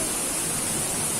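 Rushing water of the Segenter waterfall, a loud steady broadband roar close by, unbroken for the whole moment with no voices.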